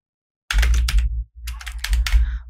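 Typing on a computer keyboard while entering text in After Effects, a quick close burst of key clicks, a brief pause, then a second run of steady tapping.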